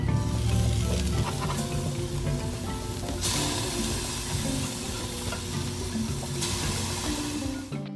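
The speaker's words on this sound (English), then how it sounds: "For dinner this night, Jonathan grilled us up some hamburgers." Hamburgers sizzle on a grill in a dense, continuous crackling hiss that stays loud and close for the whole stretch, with brief flare-ups of brighter spitting.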